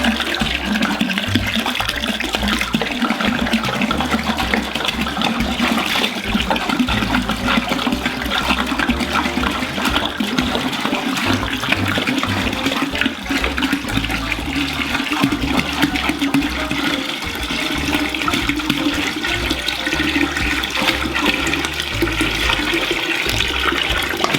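Reverse-osmosis water pours into a cider fermenter in a continuous, rushing stream, steady and fairly loud throughout, with no voices.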